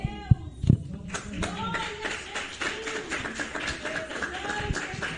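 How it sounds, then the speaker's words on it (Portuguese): A church congregation claps during a worship service, with a few sharp claps near the start followed by looser scattered clapping under ongoing voices and murmuring in the room. "Palmas para Jesus."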